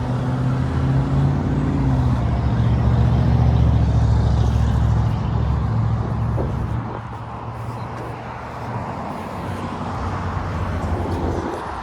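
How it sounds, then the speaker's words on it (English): A Zum transit bus passing on Highway 7 in Vaughan's Woodbridge neighbourhood: a loud, deep engine drone that swells and then fades as it goes by, leaving a softer traffic rumble behind. "There's the Zoom bus."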